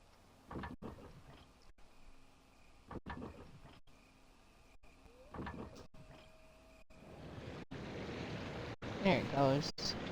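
Water rushes back to refill an area in the first Resident Evil game, a rising broadband flow swelling toward the end after sparse clunks and mechanical thuds, with no talk over it.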